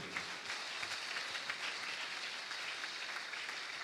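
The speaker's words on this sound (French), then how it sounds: "clap your hand now" A church congregation applauding steadily, many hands clapping together in a dense, even wash heard from a short distance, with no talking.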